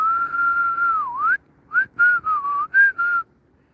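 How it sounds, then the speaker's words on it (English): Someone whistles a sustained, wavering tone for over a second, then a run of short separate whistled notes, close and clear against near silence. "Now I can whistle."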